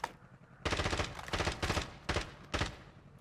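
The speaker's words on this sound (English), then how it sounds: "they're shooting the third team" Gunfire in Call of Duty Warzone, several bursts of rapid automatic fire, fairly faint and distant-sounding, separated by short pauses.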